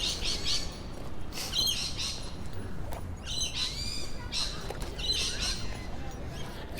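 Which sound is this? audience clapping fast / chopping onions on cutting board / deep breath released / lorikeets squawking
lorikeets squawking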